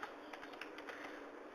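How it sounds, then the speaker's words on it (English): Rapid typing on a computer keyboard, a quick run of light, irregular key clicks played close up with no speech. "I am typing this thing."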